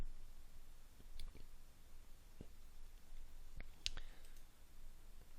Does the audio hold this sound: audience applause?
no